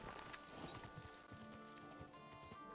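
A horse galloping in the Kingdom Come Deliverance 2 video game, with quick irregular hoof clops running through the whole stretch over a steady ambient bed.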